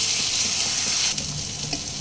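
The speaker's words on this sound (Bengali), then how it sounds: "হাফ কাপ করে 2 বারে আমি 1 কাপ গরম জল দিয়ে দিয়েছি।" Hot water goes into a pan of frying potol and shrimp curry, a loud, steady hiss and sizzle close by that eases slightly after a brief burst, with no voices.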